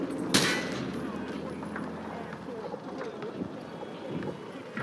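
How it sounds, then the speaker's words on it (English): Hip-fired automatic gunfire in Call of Duty Modern Warfare 2, a sharp loud burst at the start followed by scattered shots and background battle noise. "He sprayed bullets all over the damn place."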